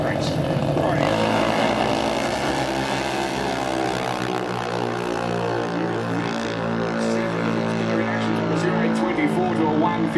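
Drag race cars launch down an eighth-mile strip, their engines roaring loud and sustained with rising pitch. Crowd and commentary blend underneath.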